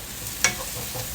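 Crushed garlic, ginger and green chilli sautéing in a pan for a mussel curry: a steady close sizzle with one brief sharp clink of a utensil partway through, no talking.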